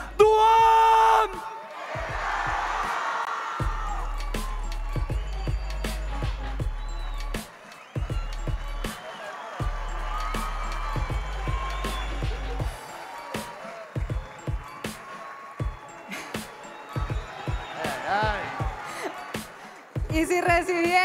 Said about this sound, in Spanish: recibieron con una fuerte algarabía a Duan